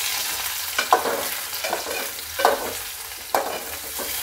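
Stuffed green brinjals sizzle in a pan while being stirred, with a soft steady fry and a few distinct scraping strokes spaced about a second apart, close and without talk.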